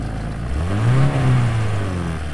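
A car engine sound effect, from a Krotos Studio library, turns over and revs up, its rising then falling drone swelling loudly through the middle before settling back to a steady run.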